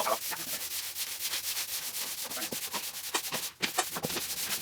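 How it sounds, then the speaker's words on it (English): A polyurethane finish is sanded with high-grit sandpaper on a block or piece of wood, making rapid, rhythmic back-and-forth scratchy rubbing strokes, close and steady, with one brief pause. "use a high grit sandpaper and a sanding block or piece of wood to smooth out the finish"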